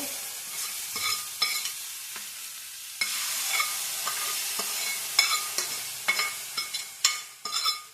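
Asafoetida and curry leaves crackle in hot oil as a tempering for chutney, with steady sizzling and a few sharp pops and spatters standing out near and loud, no voices.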